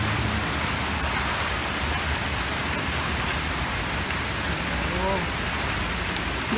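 A hailstorm in Sydney makes a dense, steady roar of ice and rain pelting the ground and nearby surfaces, loud and unbroken the whole time, with a faint voice briefly under it.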